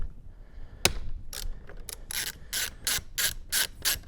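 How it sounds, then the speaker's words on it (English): A ratchet fitted with a Torx 30 bit loosens bolts on a Lexus LS600h, giving one sharp click and then a run of quick, evenly spaced ratcheting bursts, close and clear in a quiet space. "let's get some Torx action in there. Let's see, should be a Torx 30."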